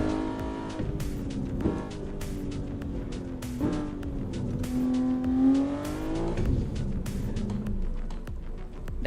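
A BMW engine in a driving video game hums and revs steadily, pitch sliding up and down through gear changes, with faint ticks over it, loud and continuous, no talk.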